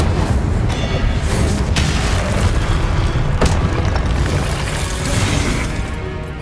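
A fire spell cast in the Hogwarts Legacy video game erupts in a loud, sustained roaring blast with sharp bursts layered on top, dense and booming throughout.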